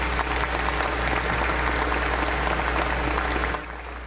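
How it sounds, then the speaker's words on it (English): Sustained round of applause from an audience at a senior honors day ceremony for graduating students, dense even clapping that continues for several seconds then drops off near the end over a steady low hum. "Give all the completers another round of applause."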